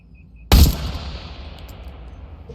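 A single loud gunshot from the VR shooter game Into The Radius 2 cracks out sharply, then its echo fades slowly, with no one talking.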